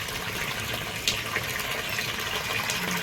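Water current flows steadily into an aquaponics pond stocked with catfish, a soft continuous gurgling rush heard close and fairly quiet, with a few small splashes.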